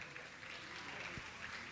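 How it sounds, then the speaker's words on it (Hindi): Audience clapping steadily at a felicitation ceremony, a short burst of moderately distant applause with faint background voices. "आप लोग तालियां बजाएं"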